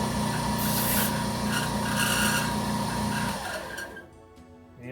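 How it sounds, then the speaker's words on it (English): The protruding ends of the handle pins on a restored 1930s Case knife are trimmed off, making a loud, steady, close grinding rasp for several seconds before it cuts out and winds down. "Now I'm going to go ahead and just trim off the excess of the pins on the outside."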